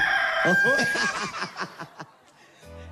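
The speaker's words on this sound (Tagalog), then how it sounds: "Manok." A rooster crows once, loud and close, its long call trailing off into a few clucking notes.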